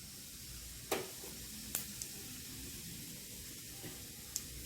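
Cumin seeds sizzle in hot oil with a steady, soft hiss throughout, broken by a few faint crackles and pops, with no talking.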